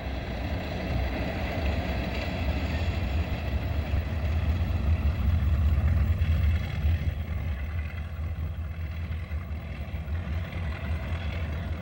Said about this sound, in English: This Baldwin DS4-4-1000 switcher was built in 1950.